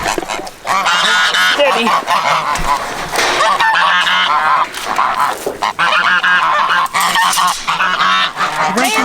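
A flock of geese honks loudly and continuously up close, a dense overlapping chorus of nasal calls, with a brief spoken word cutting in.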